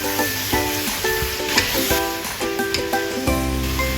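King oyster and shiitake mushrooms sizzle in a hot pan while being stir-fried, with a steady crackle broken by repeated scraping and tossing strokes of a utensil, close and fairly loud.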